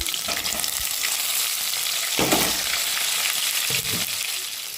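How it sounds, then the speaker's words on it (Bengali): Ginger-garlic paste and chopped tomato frying in hot oil in a pan, a loud steady sizzle with a few stirring surges, close up and without speech. "লাল লাল করে ভেজে নেব আদা রসুন বাটা দিয়ে দিলাম এক চামচ টমেটো কুচিটা দিয়ে দিলাম"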